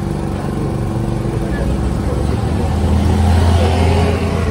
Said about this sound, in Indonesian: Kita mengendarai sepeda motor Sogun.